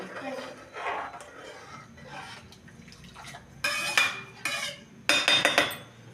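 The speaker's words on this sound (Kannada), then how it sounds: "ಇದನ್ನು ಚೆನ್ನಾಗಿ ಈ ಥರ ಕೈಯಾಡಿಸ್ಕೊಂಡು" Egg biryani mixture stirred in a metal pot with a spoon, with repeated scraping and clinking strokes and faint bubbling, close up, under someone talking.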